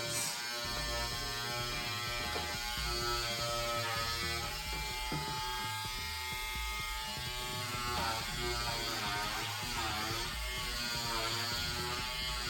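Handheld stitch eraser buzzing continuously as it shaves away dense embroidery stitches, a close, steady electric-razor-like whir with small shifts in pitch and grinding texture throughout.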